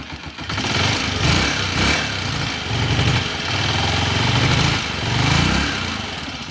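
A second-hand Honda TMX 125 Alpha motorcycle engine runs close by, its single-cylinder putter pulsing in an uneven rhythm that rises and dips in short revs over several seconds, with no talking.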